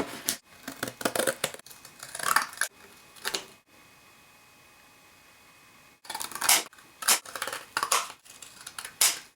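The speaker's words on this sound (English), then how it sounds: "Now what we need to do is just cut around these shapes." Scissors snipping around paper template shapes, close and crisp, in quick clusters of cuts that pause briefly for a few seconds before resuming.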